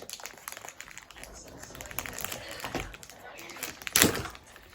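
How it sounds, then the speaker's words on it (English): A plastic bag crinkles and rustles unevenly at close range as someone struggles to open it, with a sharper crackling burst near the end. "I can't open a plastic bag."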